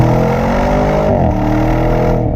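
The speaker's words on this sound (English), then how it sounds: "especially when they've got Porsche-derived 4-liter twin-turbo V8s under the hood." A 2022 Audi S8's Porsche-derived 4-liter twin-turbo V8 revving loud and close, a deep continuous engine roar that rises and shifts pitch partway through.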